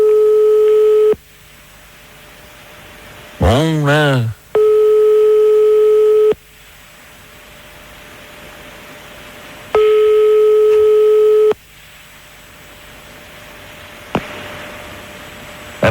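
A telephone call being placed: a rising warble of keypad dialing tones between long, steady tone bursts that repeat at regular intervals with quiet gaps, ending in a brief click, all heard clearly with a few words spoken.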